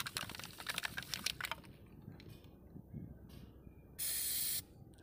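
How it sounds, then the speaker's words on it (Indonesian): Anti-leak waterproof spray is sprayed onto glass in one short, bright, steady hiss that stops cleanly, following a stretch of faint clicks and rustling from handling the can. "kita teteskan atau kita semprotkan juga ya pada bagian kaca untuk melihat seberapa ketebalannya"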